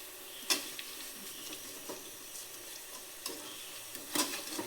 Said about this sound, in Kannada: ಸೊ ನೋಡಿ ಈ ಥರ ಕ್ರಿಸ್ಪಿಯಾಗಿ ಬರಬೇಕು, ಅಲ್ಲಿವರೆಗೂ ಚೆನ್ನಾಗಿ ಫ್ರೈ ಮಾಡ್ಕೊಳ್ಳಿ